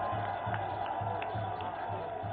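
A steady, dense crowd roar fills a BJP victory celebration at the party headquarters in Delhi as the Prime Minister's convoy arrives, with constant cheering and a low hum underneath and no clear individual voices.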